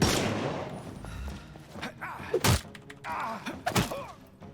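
Two heavy gunshots about a second apart in the video game Sherlock Holmes Chapter One, over a dense bed of in-game ambience and music.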